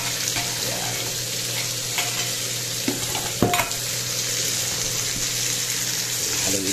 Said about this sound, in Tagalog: Haluin lang po natin kung sa madurog yan